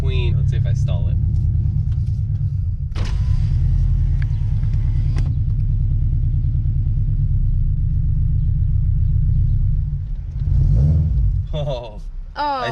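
A loud Subaru BRZ with a touchy clutch, its engine giving a deep, steady rumbling drone from inside the car while someone talks over it, briefly revving near the end.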